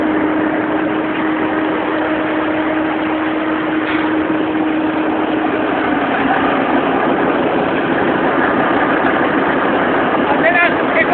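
A tractor engine idles nearby with a loud, steady low rumble and a constant droning hum, while voices can be heard over it.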